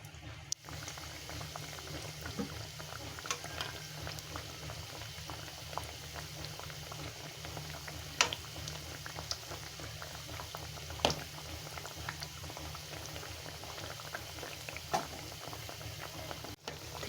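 Pieces of Afghan khajoor dough deep-fry in oil with a steady, bubbling crackle, punctuated by occasional sharp pops and spits, moderately loud and uninterrupted.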